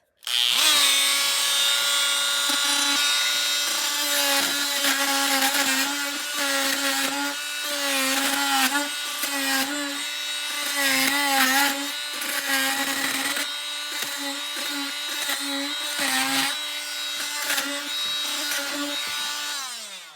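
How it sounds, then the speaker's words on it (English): A Dremel Multimax oscillating tool fitted with a carbide bit cuts through upholstery staples on furniture, giving a loud, continuous high-pitched buzzing whine with rapid grinding chatter that wavers as the blade bites, steady for the full stretch with no talk. "And what it is it's the Dremel Multimax carbide bit."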